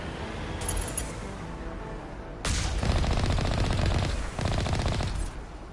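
Cannon gunfire from an enemy gun in the sci-fi shooter Mass Effect Legendary Edition: loud sustained bursts of rapid fire, one short early burst, then two long heavy volleys close together.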